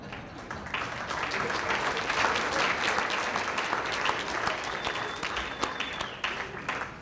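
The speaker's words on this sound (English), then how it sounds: "It's not often invocation gets an applause" Applause breaks out at an author award event in Scranton after an invocation, a dense patter of many clapping hands that swells, holds steadily for several seconds and thins toward the end.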